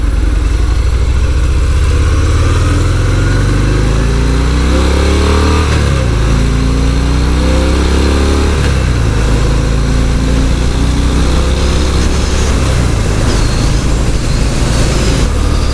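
A 2018 Harley-Davidson Fat Bob 114 Softail rumbles steadily through a ride over rough road, the engine's low drone rising and falling with gear and throttle changes, loud and close with steady wind noise throughout.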